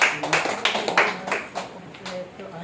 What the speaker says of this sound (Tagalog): Malakas na palakpak.